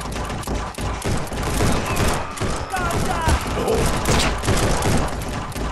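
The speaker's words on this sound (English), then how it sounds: "That's a lot of bullets." Dense gunfire barrage in the Guns'n'Stories: Bulletproof shooter game, a loud, busy stream of overlapping shots and thuds throughout, with a voice faintly beneath.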